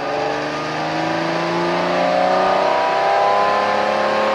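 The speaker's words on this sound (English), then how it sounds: "The noise of that V12 engine behind me. It sounds astonishing." The V12 engine of a Jaguar XJ13 race car revs and roars steadily, its pitch slowly climbing as it accelerates, loud and close with no talking.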